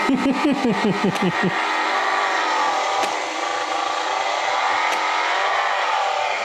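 A small toy engine simulator with spark ignition runs steadily, giving a close, continuous whirring engine drone after a few quick rapid pulses at the start, with no talk.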